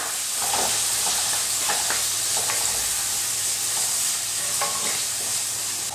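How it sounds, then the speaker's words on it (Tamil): Citron pieces sizzle steadily in hot oil, with a constant frying hiss and occasional scraping of a spoon stirring the pan. "நார்த்தங்காய் சேர்த்துட்டு இந்த எண்ணெயிலே நல்லா வதக்கலாம்."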